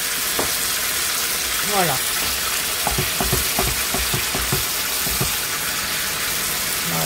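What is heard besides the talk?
turkey pieces searing in a pan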